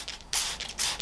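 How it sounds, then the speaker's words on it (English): Ceramic coating is sprayed onto a 2021 Sport Glide motorcycle in two short, close hissing bursts, each fading slightly before the next. "couple of sprays on there"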